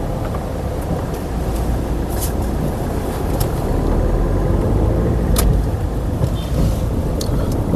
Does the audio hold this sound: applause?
no